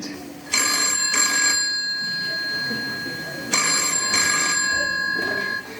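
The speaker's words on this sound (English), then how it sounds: "A phone call from the actress Lilian Trissa." An old-style telephone bell rings in two bursts of double rings separated by a pause, loud and clear in a quiet room within a radio drama.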